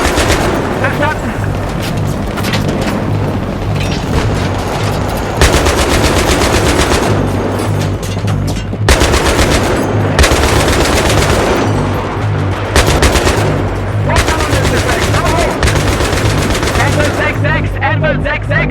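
Heavy automatic gunfire from the Battlefield 3 campaign, sustained bursts of machine-gun fire and rapid shots crackling loudly and continuously for the whole stretch, with dense fusillades rising and easing in waves.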